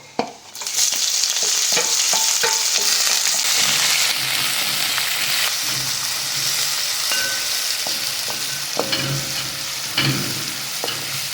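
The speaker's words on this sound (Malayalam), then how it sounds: "ഇനി ഒരു സവാള അരിഞ്ഞത് ഇതിലേക്ക് ഇട്ട് കൊടുക്കാം." Chopped onion hitting hot oil in a pan with dried red chillies, a loud steady sizzle with scraping stir strokes and occasional pops, continuing close and alone throughout.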